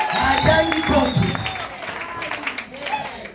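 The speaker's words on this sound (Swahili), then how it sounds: "mpigieni makofi" A church congregation breaks into applause, a dense, steady clatter of many hands lasting throughout, with a voice speaking over it.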